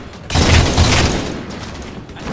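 Dense, loud burst of gunfire in a Halo 4 SWAT match, a heavy rattling volley that starts abruptly and sustains for about a second and a half before tapering, with no talk over it.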